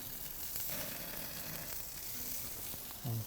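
Filet mignon sizzles on a gas grill set up for indirect cooking, burners off on one side. A soft, continuous crackling hiss runs throughout, fairly faint, with a brief low knock near the end.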